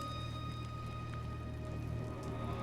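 Rain in the video game God of War falls as a steady, soft patter with faint droplet ticks under a constant low ambient hum, with no talk.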